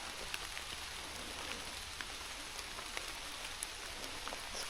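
Rain falls in a forest, a steady soft hiss with scattered sharper drips landing nearby, faint and continuous with no voices.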